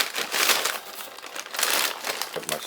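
A plastic bag of freeze-dried food crinkles as it is pulled open, two bursts of crisp, close rustling with a short pause between them.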